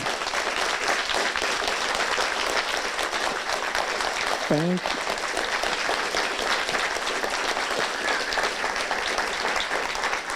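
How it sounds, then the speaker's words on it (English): A large audience gives the speakers at a talk event a long, steady round of applause that fills the room throughout, with a brief voice rising over it midway. "You deserve a huge round of applause."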